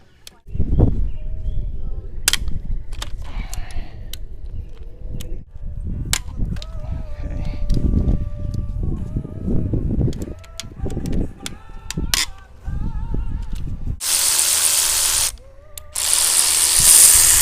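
Cylinder head bolts being loosened with a ratchet on a 440 Mopar engine during teardown, close, with bursts of rapid clicking, metallic clanks and tool handling, a hissing spray near the end.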